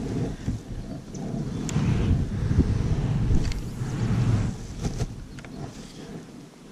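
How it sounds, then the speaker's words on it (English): Steady wind rushes and buffets against a canoe and the microphone on open water in the rain, a broad, continuous roar with gusting swells throughout. "The wind's catching us now."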